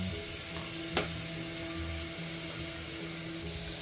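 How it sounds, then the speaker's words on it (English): Onions frying in hot oil give a soft, even sizzle with faint crackles, one brief tap early on, and a low background hum, at a fairly quiet level. "Once the oil is heated, add onions."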